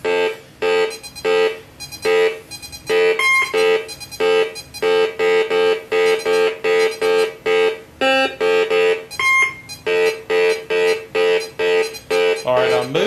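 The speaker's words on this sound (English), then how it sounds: "both channels of audio information will pick up the beeps as I travel the metal" Rapid, repeated electronic beeps pulse in a steady rhythm, with a few higher-pitched tones breaking in now and then, loud and close.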